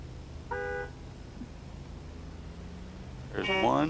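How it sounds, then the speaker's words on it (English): Drift cars at a sand-track drift battle sound their horns, one short steady honk early and a louder burst near the end, with voices and general background noise in between. "Driver's honk when ready."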